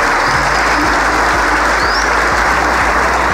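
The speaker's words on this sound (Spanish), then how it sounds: "Yo pido un aplauso para todo ese equipo." Loud, sustained applause from a large crowd at the inauguration of a tall tower building, dense continuous clapping heard up close over a low steady rumble, with no speech.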